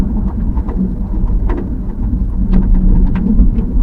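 Rain pouring steadily on a mountain highway in Thailand, a loud dense hiss with scattered drops hitting the surface and a low rumble underneath, no voices.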